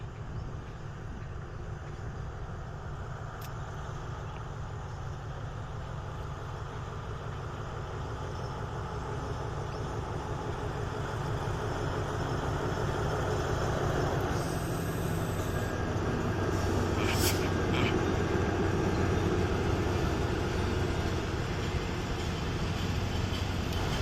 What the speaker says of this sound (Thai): เป็นเครื่องยนต์ MTU นะครับหัวรถจักรคันนี้นะครับ